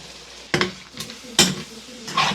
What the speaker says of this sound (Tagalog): Habang ginigisa natin, lagyan natin ng mga pampalasa.